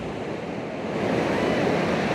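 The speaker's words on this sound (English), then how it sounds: "The water is also coming in behind me." Sea water surges in over a rocky ledge on the Northumberland coast, a steady broadband wash of surf that grows slightly louder partway through, mixed with wind noise on the microphone and no speech.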